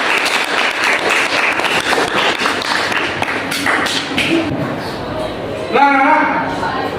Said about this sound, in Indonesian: beri tepuk tangan untuk dua teman kalian